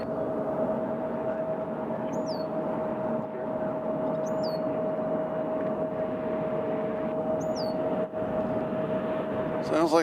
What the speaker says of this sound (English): Sounds like we got a little Embraer.